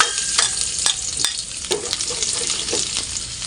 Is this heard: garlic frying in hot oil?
yes